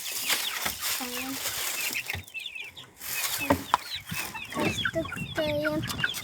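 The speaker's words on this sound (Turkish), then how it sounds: "Şimdi tavukları bırakacağız." Chickens cluck and squawk nearby in a busy, overlapping chorus, with people talking at times in the background.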